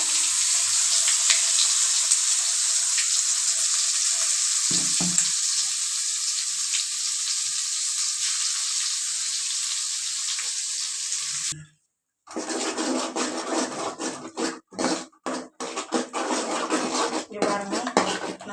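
Pirandai (adamant creeper) frying in hot oil for a pickle, a loud, steady hiss and sizzle that stops briefly near the middle, then resumes with crackling and clinking utensil sounds.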